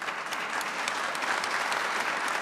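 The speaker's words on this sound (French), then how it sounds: "J'espère que vous êtes applaudi pour les bonnes raisons" An audience claps steadily and densely throughout, a continuous even wash of applause in a debate hall with no speech on top.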